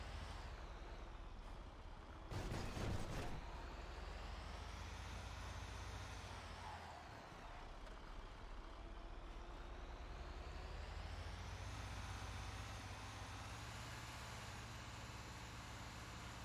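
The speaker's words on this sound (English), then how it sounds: "So here we are. There's our little marker. So there's a garbage truck." Garbage truck in FiveM (GTA V), its engine a steady low drone throughout with a brief hissing burst like an air brake early on, no talk over it.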